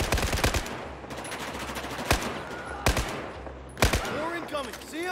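Gunfire in the video game Battlefield 4, with rapid bursts of automatic fire and a few sharp single shots, loud and close, alternating with short lulls while a voice talks over the action.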